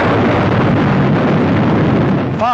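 A rocket exploding at launch in archival film, a continuous loud, roaring rumble of blast and fire that fills the whole stretch at a steady level.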